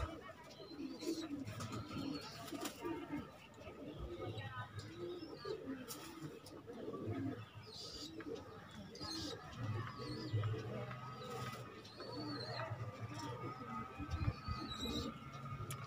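Saharanpuri cross-breed pigeons coo repeatedly in a soft, rhythmic chorus near a loft, low throaty calls overlapping throughout while someone speaks over them.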